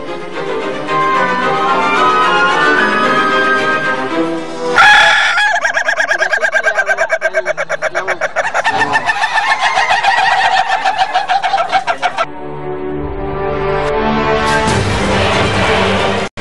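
A rooster crows repeatedly, loud and close, its long drawn calls sounding one after another with some clucking fowl between them, alone without any voices.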